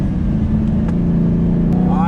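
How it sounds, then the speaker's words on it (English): High, steady supercharger whine from an 800 HP Dodge Hellcat, loud and close inside the car over a deep engine drone, with a voice talking over it. "It's squealing. Yeah. Well, it's not like squealing. It's called a whine."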